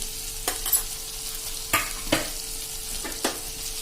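Kashmiri red chilli powder, turmeric and coriander-cumin powder frying in oil for a dhaba-style Punjabi sev tomato curry, a soft sizzle under a few sharp scrapes of a spoon against the pan, spaced irregularly.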